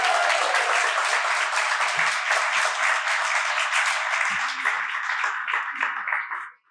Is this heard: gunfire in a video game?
no